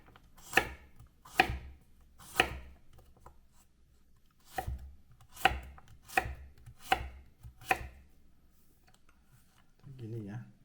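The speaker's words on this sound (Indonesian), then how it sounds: "serehnya kita potong dulu kecil-kecil" Knife chopping lemongrass into small pieces on a cutting board, about ten distinct crisp thunks in an uneven rhythm, close and fairly quiet, with a brief murmur of voice at the end.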